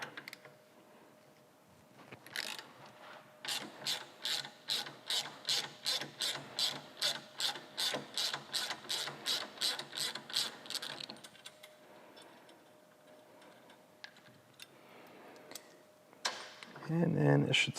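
A ratchet turns a T27 socket on the brake pedal of a Harley-Davidson Low Rider S motorcycle, giving a close, steady run of about twenty quick clicks, then a pause and a brief clatter at the end.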